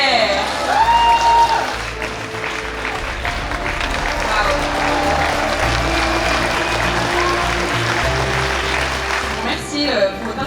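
An audience at an institute festival applauds a contest winner, with sustained clapping from a crowd that carries on under a voice talking over a microphone.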